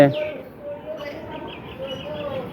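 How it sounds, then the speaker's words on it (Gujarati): Pigeons coo softly at a dovecote built for them in a temple courtyard in Gujarat, with low, muffled calls repeating over a steady outdoor hum. "આ છે કબૂતરને રહેવા માટેનો ચબૂતરો પણ બનાવેલો છે."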